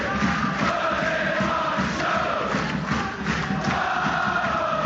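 Football crowd roaring at Rodney Parade stadium during Newport County's FA Cup tie against Manchester United, a dense, continuous wall of cheering and chanting that swells steadily and fills the whole stretch.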